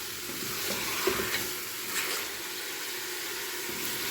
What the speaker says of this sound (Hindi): चिकन को आप अच्छे से भुना कीजिए ताकि इसकी स्मेल ना आए